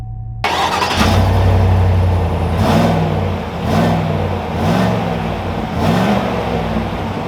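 A 2021 Chevy Silverado 1500 Trail Boss with the 6.2-liter V8 sets off and drives away, its engine rising and easing in several swells. The sound is loud and close, with no talk over it.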